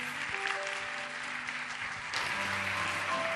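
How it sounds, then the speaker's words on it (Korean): Church congregation applauding to welcome a pastor, a steady wash of clapping that swells louder partway through, with no talk over it. "우리 큰 박수로 환영하도록 하겠습니다"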